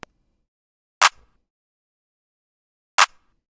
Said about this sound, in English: Moving on to the drums, the first thing I added was a clap.